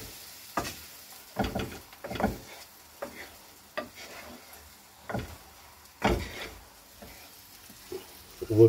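Fried eggs with tomato being stirred in a frying pan: a spatula scrapes and taps the pan in irregular bursts of several strokes over a soft, steady sizzle, close up and with no talking.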